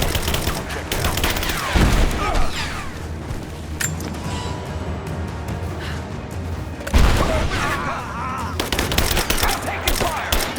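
Dense bursts of gunfire from a firefight in the video game Rise of the Tomb Raider, with rapid automatic shots, two heavy booming blasts and a steady backdrop of combat noise, loud and close throughout.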